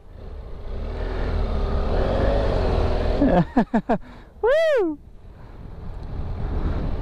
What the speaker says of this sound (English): BMW water crossing.